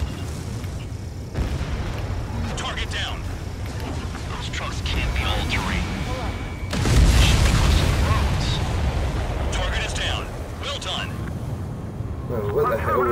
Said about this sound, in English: That, of course, that was a big explosion.